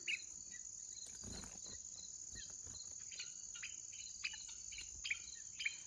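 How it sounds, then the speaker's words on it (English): Birds call intermittently outdoors in a homestead food forest, short bright chirps rising over a steady, dense insect and cricket chorus, moderately near, with no talking. "I wish you could see these birds."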